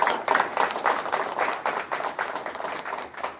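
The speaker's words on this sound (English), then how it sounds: "Let's give him a round of applause." A crowd at a Hall of Fame ceremony applauds an honoree, with dense, steady clapping that continues strongly throughout, close by and even in loudness.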